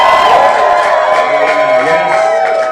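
A comedy club audience in London cheers and whoops loudly in a sustained roar, with scattered clapping blended into the crowd noise, close and full throughout.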